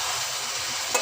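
Masala sautéed and stirred in a pan, a close, steady sizzle with soft stirring scrapes over about a second, ending with a faint clink.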